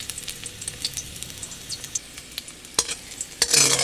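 Garlic sautéing in a pan and browning, a steady sizzle under frequent stirring scrapes, with a louder burst of frying near the end.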